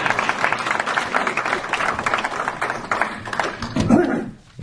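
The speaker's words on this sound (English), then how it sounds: "Now you can clap." An audience at a debate breaks into applause, giving a dense, fairly loud, continuous patter of many hands that holds steady for several seconds and then fades out toward the end.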